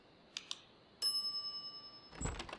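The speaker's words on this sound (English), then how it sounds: "some idiot's already ringing that stupid bell" A shop service bell in The Secret of Monkey Island rings once with a bright, clear ding that hangs and slowly decays, after a couple of small taps and before a muffled thump near the end.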